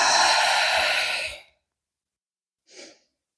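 A long, breathy exhalation during a yoga exercise lasts about a second and a half and fades out, followed by a short, soft breath a moment later, close and clear with no talking.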